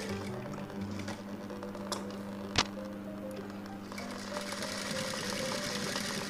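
A sewing machine stitches a blouse with a quiet, rapid mechanical ticking hum, faint and steady, broken by one sharp click midway and growing slightly busier toward the end.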